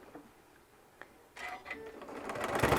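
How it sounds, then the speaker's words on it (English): A sewing machine stitches fabric for an airplane-shaped caddy, starting after a quiet gap with a click near one second, then running in a steady rattling burst that grows louder toward the end, with brief back-stitching pauses. "do a few stitches, back it up, and keep going right through here"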